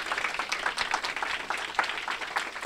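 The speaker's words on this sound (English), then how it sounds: "Can I have a round of applause for all of our panelists?" A conference audience gives a panel a brief round of applause, with dense, steady clapping from many hands throughout.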